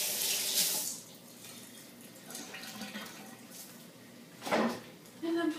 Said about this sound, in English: I'm going to rinse my hands off real quick